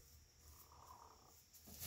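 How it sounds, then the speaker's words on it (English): A hen purring softly in a coop, a faint, low continuous rumbling trill lasting a couple of seconds, quiet and close with no other voices. "She's purring."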